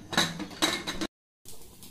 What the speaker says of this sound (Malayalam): ഇനി കുക്കർ മൂടിയിട്ട് നമുക്ക് വേവിച്ചെടുക്കാം.